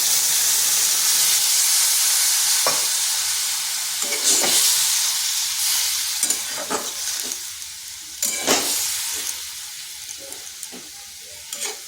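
Water poured into a frying kakrol (spiny gourd) curry with sesame and peanuts sets off a loud, hissing sizzle that slowly eases, broken by scattered clicks and scrapes of stirring.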